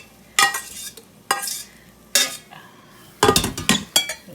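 Browned beef lifted out of a pressure cooker pot with metal utensils: several separate bursts of scraping and clinking against the pot, with a faint sizzle between them and no talking.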